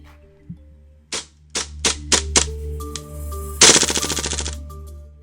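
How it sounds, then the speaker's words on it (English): Several sharp, loud single shots spaced apart, then a rapid burst of rattling fire from a KWA H&K MP7 gas blowback airsoft gun, close up. "Now coming up is a demo of the weapon's blowback action and recoil."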